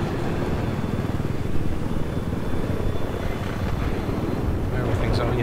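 Attack helicopter in the video game Battlefield 4, a steady droning rotor and engine rumble that stays fairly constant and moderately loud throughout.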